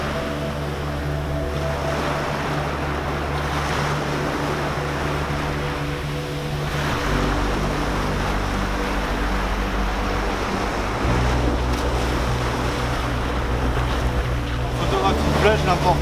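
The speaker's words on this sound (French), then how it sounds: "Comme vous voyez là avec les vagues, elle se fait vraiment taper par les vagues" Ocean waves breaking and washing against a rock on a beach, a continuous surging roar with wind, while a low steady motor hum runs underneath throughout.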